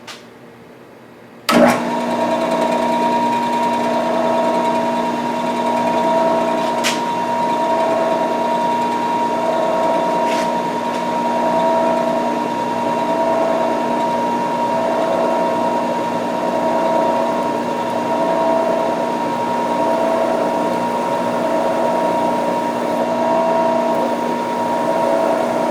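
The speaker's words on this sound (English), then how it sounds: "And we'll be using our quill wheel to help drill that hole." A drill press boring a pilot hole with the quill wheel, a steady machine hum with a constant pitched whine running unbroken after a sharp start, close and loud, no voices.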